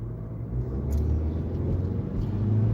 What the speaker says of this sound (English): There's a large cargo truck behind me.